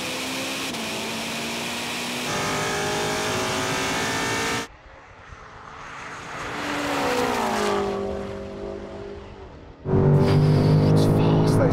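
A BMW M5 and a Ferrari SF90 accelerate in third gear in a roll-on race from 50, with loud engines rising steadily in pitch. The sound cuts between cars, including a quieter stretch, and ends with a loud roar.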